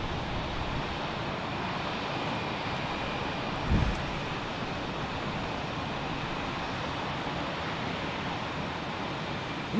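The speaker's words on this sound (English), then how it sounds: "American 444 going to Philadelphia on an A319" An American Airlines Airbus A319 takes off from runway 28 right. Its jet engines make a broad, continuous roar that holds steady and fairly distant throughout, with a brief low thump partway through and no voices.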